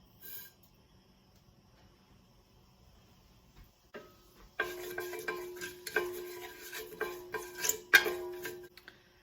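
Mustard seeds dropped into hot olive oil in a cooking pot: after a quiet start, a dense crackling sizzle with rapid irregular pops builds and continues close up, with a faint stirring clink, no voices.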